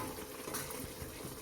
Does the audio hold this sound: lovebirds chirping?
no